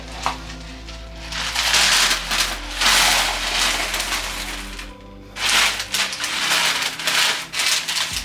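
Ceramic baking beads poured into a flan tin for a sausage quiche, a dense clattering rattle of small hard beads in bursts, loud and close, with a brief pause partway and a few scattered rattles after.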